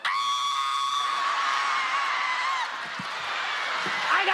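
A person lets out a loud, sustained scream that holds a wavering pitch for a couple of seconds before trailing off, followed by faint thumps and background noise.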